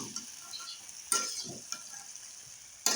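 Green eggplant and other vegetables are stirred into fried spices in a pan, giving a soft, steady sizzle with a few scraping strokes and two sharper surges of frying.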